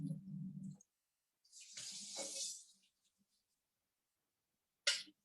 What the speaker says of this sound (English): We're going to pour that water off.